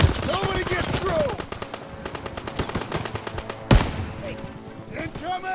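Rapid machine gun bursts rattle in a Call of Duty WWII battle, dense regular firing with a loud blast partway through, mixed with shouted voices and battle noise.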